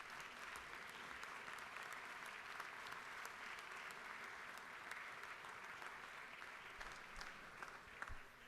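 Sustained round of applause from members in a state House legislative chamber, even, dense clapping lasting throughout, heard fairly quiet and distant.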